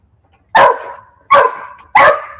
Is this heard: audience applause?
no